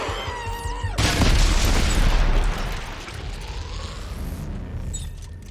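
A rocket explodes in the sci-fi horror video game Dead Space 3: a sudden loud boom erupts about a second in, then rolls into a rumbling, crackling roar that fades slowly under the game's ambience.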